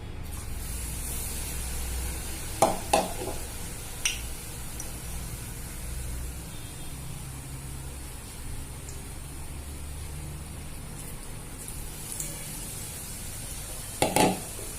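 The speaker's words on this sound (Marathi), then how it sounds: "दोन ते 3 मिनिटं लागतात पूर्ण वडा तळायला." Vadas, gram-flour-battered fritters for street-cart vada pav, deep-fry in oil in a kadhai over low gas, giving a steady hiss with a few sharp crackles and pops.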